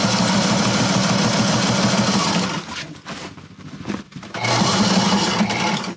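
A sewing machine stitches fabric on a sailboat, a loud close mechanical whir that runs steadily, drops into a stretch of uneven clatter and quieter pauses, then resumes its fast, even hum.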